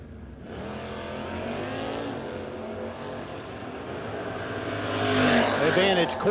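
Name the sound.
Mustang and Demon drag race cars launching from starting line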